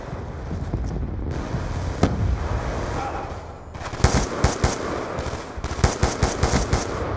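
Automatic and single gunfire from a Black Ops 2 multiplayer match on the Plaza map, PC version: a steady rattling bed of shots, then a run of loud, sharp bursts repeating near the end, no talk.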